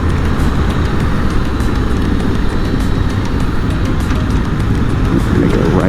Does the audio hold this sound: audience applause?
no